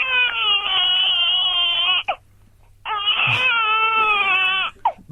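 A baby cries loudly in two long wailing bursts separated by a short gasp, with no talk over it.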